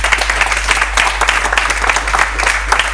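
An audience at a talk show gives loud, sustained applause, dense clapping throughout with a low steady hum beneath.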